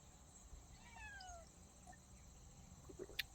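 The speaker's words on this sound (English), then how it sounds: "Hey there, kitty." A farm cat meows softly a few times in quick, rising calls, faint against an outdoor background of steady insect and bird noise under an oak tree.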